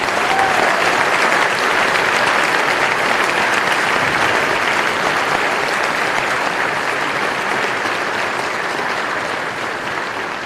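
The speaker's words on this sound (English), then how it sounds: "One final round of applause for all of our award winners this evening." A senior honors night audience gives award winners a final ovation: loud, dense, continuous clapping from a large crowd, sustained at full strength throughout and tapering only slightly toward the end.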